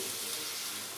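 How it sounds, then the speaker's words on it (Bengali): A steady stream of water pours into a pot of mushroom and potato curry, giving a loud, unbroken gushing splash that lasts the whole moment. "এবারে ওতে জল দিয়ে দেব।"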